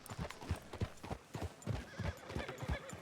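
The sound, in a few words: horse hooves clip-clopping in a video game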